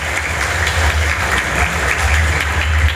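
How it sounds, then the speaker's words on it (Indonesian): A loud, dense burst of audience applause at a night-time Ramadan festival gathering of young people, sustained and even throughout, with no talk. "Tepuk tangan dulu untuk pemuda-pemudi Sumeneb yang hadir pada malam hari ini"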